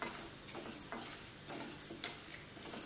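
Chana dal and urad dal roasting with spices in a pan for sambar masala, a soft continuous dry sizzle broken by irregular light scraping and stirring ticks, close and fairly quiet.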